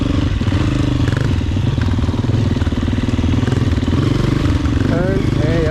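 Dirt bike engine running steadily and loudly throughout at an off-road adventure park in Georgia as a beginner rider eases along, a constant close motor drone with slight rises in throttle.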